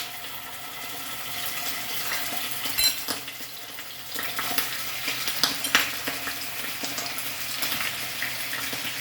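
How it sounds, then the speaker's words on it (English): Chicken wings crackle and sizzle steadily in hot oil, a continuous bright frying hiss with small popping spikes throughout, close and fairly loud with no talking. "So the oil is hot, so let's put this wings."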